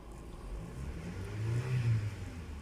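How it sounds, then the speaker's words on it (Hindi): After an ECM repair, a 2013 Toyota Camry engine idles faintly and then revs up briefly in a soft, swelling rise before easing back down, with no voices. "गाड़ी रेस बिल्कुल ले रही है सही"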